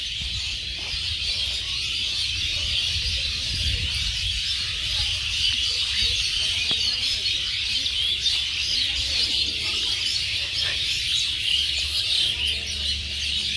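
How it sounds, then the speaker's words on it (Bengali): Many birds chirp and twitter in a dense, continuous chorus around a village toward evening, a busy, high, overlapping chatter with faint background rumble and no clear talk. "আর এই দিক দিয়ে পাখি দেখবেন কিরকম কিচিরমিচির করে বানছে"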